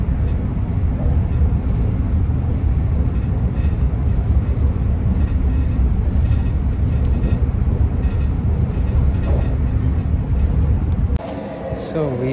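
Steady low rumble of a train rolling along near Toulouse, France, continuous and fairly loud, with people talking over it and a sudden quieter change near the end.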